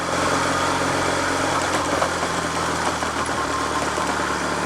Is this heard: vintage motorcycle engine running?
yes